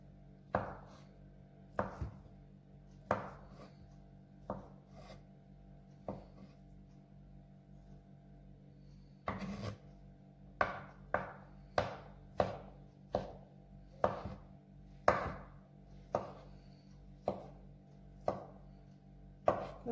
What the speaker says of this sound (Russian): Первым делом нарезаю картофель. Не крупно и не очень мелко.